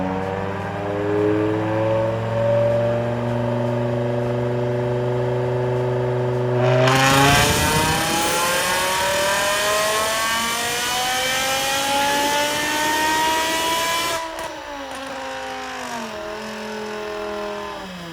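A tuned BMW E60 M5 on a dyno makes a humming, droning engine note, then surges into a loud full-throttle pull that climbs steadily for about seven seconds before the revs drop back to a lower drone.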